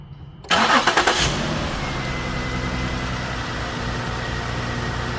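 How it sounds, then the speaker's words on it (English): A 2008 Lincoln MKX engine with an injector driver fault cranks briefly and catches, then settles into a steady, close idle that continues alone to the end. "So what I'm gonna do is start the vehicle up"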